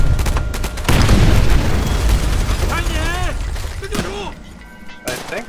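Mortar blasts and gunfire in Call of Duty: World at War, a dense, loud battlefield of booming explosions and rattling shots, with game voices and radio chatter heard over the din.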